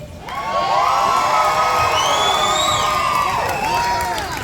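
Large crowd cheering loudly, a sustained roar of shouts and high whoops swelling after a quieter moment and holding steady, with screaming voices rising above the mass.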